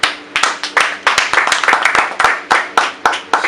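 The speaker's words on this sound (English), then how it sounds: "Let's go ahead and clap it up here." A few people in a radio studio basement clap together in loose, close, sharp bursts, a sparse run of distinct hand claps with slight echo across the moment.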